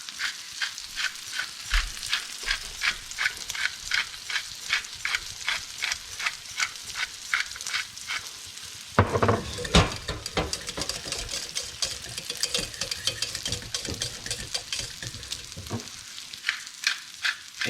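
Sausage gravy stirred in a pan, a spoon scraping in a quick steady rhythm over a soft sizzle, close up and continuous, with a louder burst of bubbling and scraping partway through.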